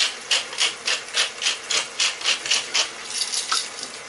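A salt grinder being twisted over a pot of minced lamb and pea curry, giving a run of about a dozen rhythmic, raspy grinding pulses, close and fairly loud, with no talking.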